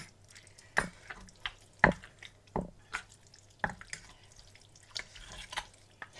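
Sliced green onions pounded into a rustic Isan-style mushroom soup, giving about five sharp, close thuds at irregular intervals with quieter clatter between them.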